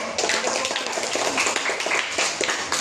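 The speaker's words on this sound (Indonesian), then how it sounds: "Ya, kasih tepuk tangan dulu." Students in a classroom clap together on cue, a dense patter of hands sustained evenly for a few seconds with no talk over it.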